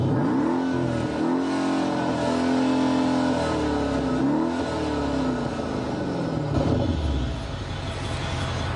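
A Mercedes-Benz CL 63 AMG V8 revs hard, its loud engine note rising and falling in several sweeping pulls before settling into a deep rumble, heard alone with no talk.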